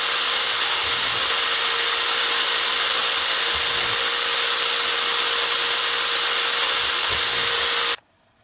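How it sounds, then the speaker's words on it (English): A steady, loud high-pitched whine of a small drill boring holes in a printed circuit board runs continuously for about eight seconds, then cuts off abruptly. "Okay, time to drill the PCB."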